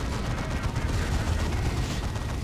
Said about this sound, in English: There's an orbital bombardment on the face of that D cannon.